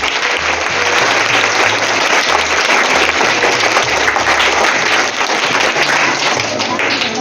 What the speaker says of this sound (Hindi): 8वीं वालों ने एक बार उनके लिए भी तालियां हो जाए